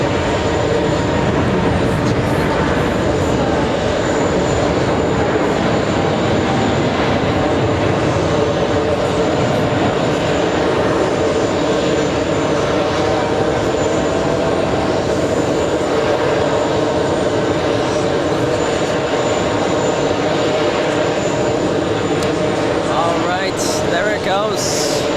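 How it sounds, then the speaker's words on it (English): A British Airways Speedbird jet accelerating down the runway on its takeoff roll at JFK airport, a loud continuous engine roar that holds steady throughout while a voice talks over it. "Okay. 140 knots, 150, accelerating through now 160 knots."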